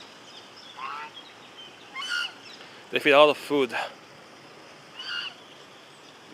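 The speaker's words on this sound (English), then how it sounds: "but it's a duck. so big." Large ducks at a park in Rome give a few scattered honking quacks, one louder close burst in the middle, over a soft outdoor hiss, while a person talks briefly.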